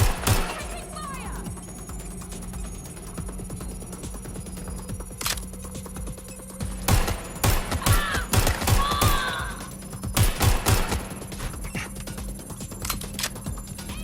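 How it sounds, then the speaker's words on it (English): Scattered gunfire in the video game Watch Dogs: Legion, with a few sharp cracks early and a denser cluster of loud shots in the middle, over a steady game background hum. "Taking fire!"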